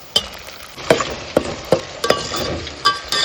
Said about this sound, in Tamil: தக்காளியை இதில் சேர்த்துட்டேன் தக்காளி நல்லா வதங்கட்டும்